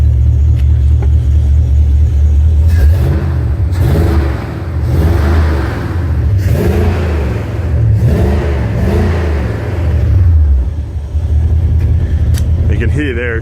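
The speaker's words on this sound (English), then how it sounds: "You can hear there, it's just got that miss, so something's not right." A bagged Rambler Rebel engine runs on seven of its eight cylinders with a misfire, giving a loud, close, lumpy rumble with uneven pulsing surges and revs throughout.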